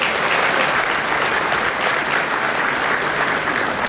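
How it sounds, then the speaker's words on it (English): A crowd at a scholarship jazz brunch claps loudly and evenly for the whole stretch, a thick unbroken wall of applause with no talking. "I think that deserves a round of applause."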